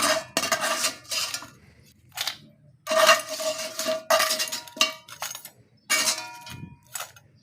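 Squash pieces tumble into a hot wok-style pan while cooking ginataang kalabasa with crabs, giving repeated close metallic clangs and clinks of utensils against the pan in short bursts separated by brief pauses, with no talking.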